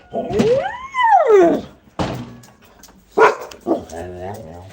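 A dog gives several loud, close barks and howl-like yowls in separated bursts, with short pauses between them in an indoor setting.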